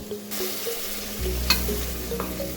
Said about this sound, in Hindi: फेफड़े भून चुके हैं। अब मैं इसमें 2 टेबलस्पून दही ऐड करूंगी।